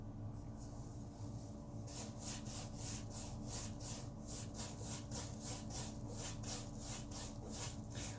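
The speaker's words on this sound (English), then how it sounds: "I'm just getting all the extra paint off my brush so I don't have to wash as much pigment out" A paintbrush loaded with acrylic paint being wiped back and forth to shed excess paint, a quiet rhythmic rubbing and scraping repeated about twice a second over a low background hum.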